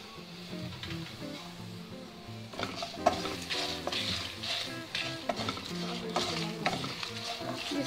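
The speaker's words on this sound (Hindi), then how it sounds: "इसको अच्छी तरह से हम फ्राई कर लेंगे।" Curry leaves fry in a pan after rasam powder spices have been dry-roasted, giving a steady close sizzle with stirring and occasional scrapes and clinks of a spoon against the pan.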